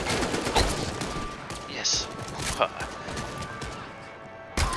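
Gunfire crackles in the VR shooter Medal of Honor: Above and Beyond, with sharp close shots and short bursts over a busy battle din. A voice speaks briefly.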